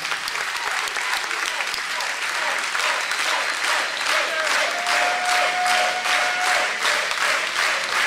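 A wrestling crowd at an independent show applauds steadily, dense clapping and cheering filling the hall loud and close for the whole stretch, with a brief whistle-like tone riding over it midway.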